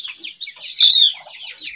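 A hen gives a short burst of high, scratchy clucks, the loudest one near the middle, close and clear in a quiet setting.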